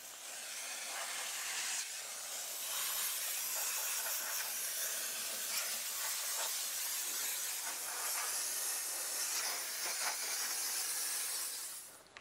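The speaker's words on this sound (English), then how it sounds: "I'm gonna steam it" A continuous loud hiss of steam spraying at close range onto a 1929 Ford hot rod engine, steady for the whole stretch and cutting off at the end.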